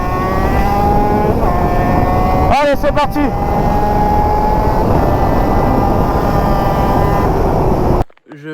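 A 50cc motorbike revved at full throttle, a loud, continuous high-pitched engine drone holding steady with a brief warble partway through, cutting off abruptly near the end while a voice speaks over it.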